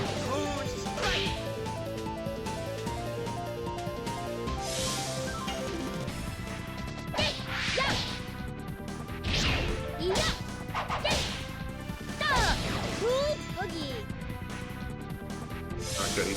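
Moon Strike attack landing in The Legend of Dragoon, a burst of whip-like cracks, whooshes and smashing impacts repeating over game music, with excited talk over the top.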